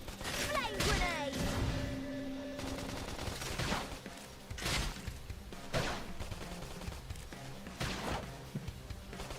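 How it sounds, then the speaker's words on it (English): A flame grenade attack in Xenoblade Chronicles X bursts with repeated thumping impacts and crackling combat effects, moderately loud amid ongoing battle sounds. "Flame grenade!"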